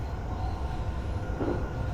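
A JR East Keihin-Tohoku E233-1000 commuter train running in Train Simulator Classic near Tokyo, a steady low rumble of wheels and motors with a faint swell near the end, continuous and without voices.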